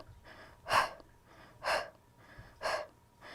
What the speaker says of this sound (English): Little exhales.